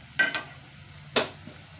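Panch phoron powder is stirred into hot papaya oil with the heat switched off, giving three brief scraping strokes, two close together and then one more, against a quiet background.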